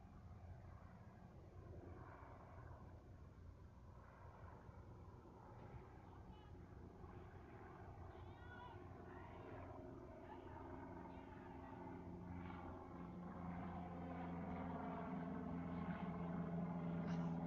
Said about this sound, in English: Doesn't help when you have an airplane going by either.